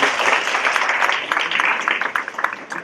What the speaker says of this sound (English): So that's worthy of applause as well.